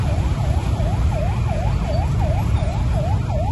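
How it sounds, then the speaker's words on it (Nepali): Wailing ambulance siren at Tribhuvan International Airport in Kathmandu at night, a steady repeating up-down sweep about every third of a second, loud and continuous over low traffic rumble. "यहाँनिर एम्बुलेन्स हो कि यो के हो"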